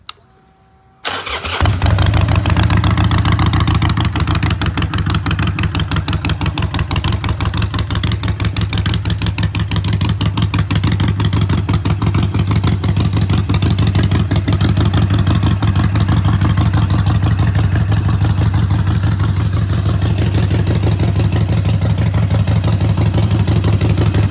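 A 2013 Harley-Davidson Iron 883 motorcycle with 5,811 miles cranks and fires up, then settles into a loud, close, steady idle with a rapid rhythmic thump that continues alone to the end.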